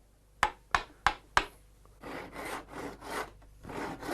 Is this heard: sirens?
no